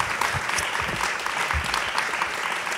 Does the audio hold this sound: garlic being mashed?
no